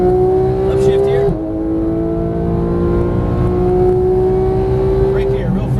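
A Porsche GT3 991 on a track day: the engine note drops sharply at an upshift, then climbs steadily as the car pulls hard, loud from inside the cabin with a voice talking over it.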